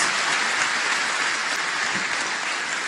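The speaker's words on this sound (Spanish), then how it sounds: "Vamos a darle un aplauso al señor presidente." An audience gives the president sustained applause at a public event, a dense, loud wash of many hands clapping continuously without a break.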